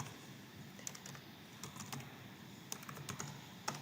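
Computer keyboard typing while a research location name is entered into an online IRB multi-site study form: scattered, quiet key clicks in short bursts over a faint steady background hiss.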